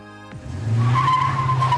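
A toy car pulled out of a toy garage gives a short skidding squeal, a tonal screech that rises in loudness and holds close to the microphone for over a second.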